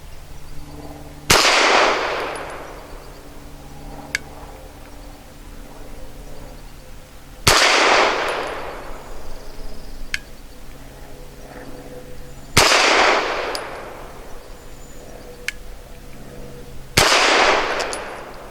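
Four loud pistol shots from a Springfield Armory XDe at an outdoor range, evenly spaced about five seconds apart, each a sharp crack with a brief ringing tail over a steady low background hum.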